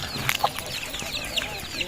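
Chickens cluck in short, scattered calls over a soft, steady background, with no talking.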